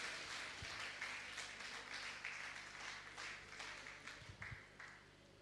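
Faint, distant applause rises from the gathering at a Jain Shanka Samadhan discourse with Praman Sagar Ji Maharaj, a soft wash of clapping that fades slightly toward the end, with a few low thumps.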